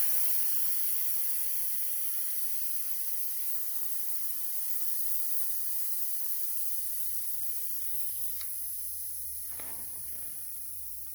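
Air hisses steadily out of a bicycle tire valve with the valve stem core removed, a continuous close sharp rush that slowly tapers as the tire deflates.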